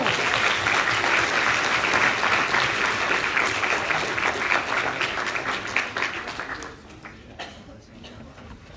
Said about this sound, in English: Give that man a big round of applause.